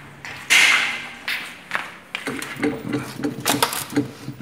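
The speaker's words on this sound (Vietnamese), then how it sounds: "mình sẽ chọn thử chức năng vắt và chúng ta sẽ quan sát cái motor" An LG inverter washing machine starting its spin cycle, with a thud and clicking mechanical sounds followed by a rhythmic whirring as the drum begins turning, heard close up.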